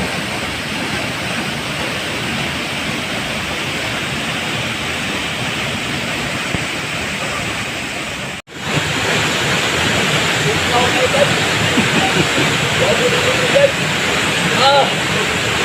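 Spring-fed water at Marangig Falls in Maragusan, Davao de Oro, rushes and splashes in a steady, close, loud wash that continues unbroken apart from one brief dropout partway through.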